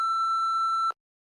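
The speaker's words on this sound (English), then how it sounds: "Please leave a message after the beep." A single steady electronic answering-machine beep, clear and close, holding for nearly a second before cutting off abruptly into silence.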